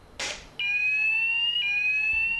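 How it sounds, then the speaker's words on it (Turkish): A fire alarm goes off during a fire drill, opening with a short noisy burst and then a loud, steady electronic tone that holds unbroken, with a slight step in pitch partway through, heard alone with no voices. "Yangın çıktı, alarmı çalıştır."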